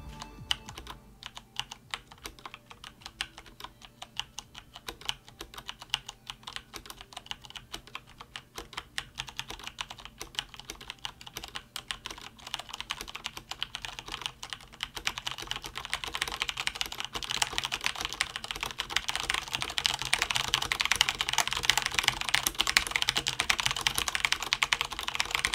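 Typing on a Cougar Attack X3 mechanical keyboard with Cherry MX Brown switches: steady clacking keystrokes that start slow and sparse, then build into a dense, fast, louder patter, heard alone and close.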